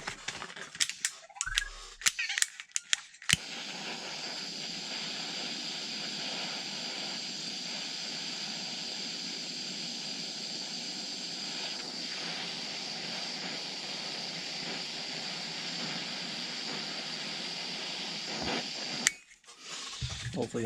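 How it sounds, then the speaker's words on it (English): A torch flame roars steadily and loudly for about fifteen seconds while heating the motor bearings of a Losi DB Pro Spektrum motor to break them free, with clicks and handling noises before and after the burn. "I'm going to touch these two with fire"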